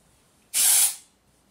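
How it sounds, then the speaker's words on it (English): A can of dry hair spray for brown hair lets out a single half-second hiss, loud and close, that tapers off quickly into quiet. "You kind of spray it there, let it dry a little bit."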